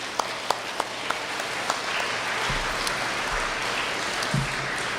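An audience at a science and space technology lecture applauds astronaut Chiaki Mukai, the first Japanese woman in space: a few sharp early claps swell into steady, full applause that carries on to the end.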